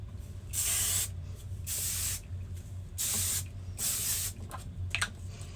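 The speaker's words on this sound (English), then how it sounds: "Take your texturizing spray first, I'm almost out." Several short bursts of aerosol spray hiss close by, about four or five sprays spaced roughly a second apart, with quiet gaps between.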